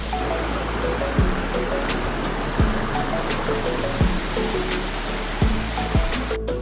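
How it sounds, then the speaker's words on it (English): Steady rushing water from rivers in lush, green Big Sur woods among sequoias, a continuous broad roar with faint clicks and pulses running through it, loud and close throughout. "You could hear the rivers everywhere."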